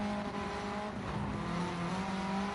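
Sim racing game car at speed, a sustained droning engine tone with steady harmonics and a slight pitch dip as it shifts gear, heard alone at moderate level.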